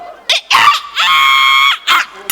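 A person's voice imitates a hen with a few sharp squawking bursts and a longer strained, screechy cackle, loud and close, with short gaps between cries.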